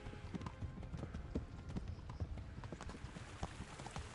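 Horse hooves clip-clop at a gallop in the Kingdom Come video game, a steady rapid drumming of hoofbeats at moderate loudness over busy game background noise.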